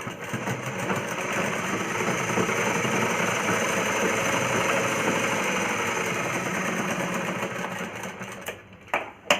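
A sewing machine stitches a blouse with a continuous, even mechanical whir for most of its length, stopping briefly with a few clicks at the end.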